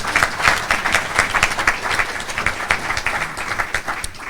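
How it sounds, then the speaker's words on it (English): Steady applause from a large audience at a public policy gathering, dense continuous clapping that holds at an even level throughout with no voices over it. "let me invite you to give a round of applause"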